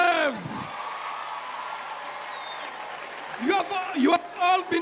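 At a comedy club in Uganda, the audience claps and cheers in a broad, steady wash of applause, with a performer's voice cutting in at the start and end.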